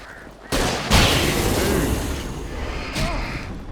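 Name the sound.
flare gun firing in video game Alan Wake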